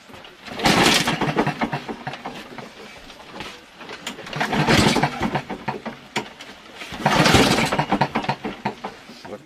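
An old Lawnboy rotary lawn mower, unused for 10 years, is cranked in three loud, rattling pull-start bursts, its engine sputtering briefly with each attempt, close by.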